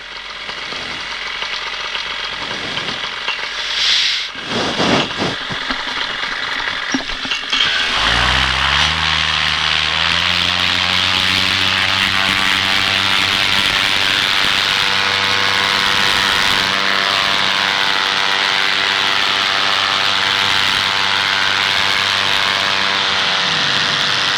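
Paramotor engine starting up and running at full power through takeoff and into flight, a loud steady propeller drone with strong harmonic hum that holds continuously after a short spin-up, no talking.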